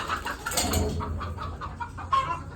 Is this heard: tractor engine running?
no